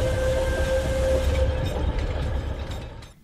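Inside a carriage of the Alishan Forest Railway train in Taiwan, a loud steady rumble of the moving train carries on throughout, with a sustained tonal whine from the running gear. The noise eases slightly toward the end.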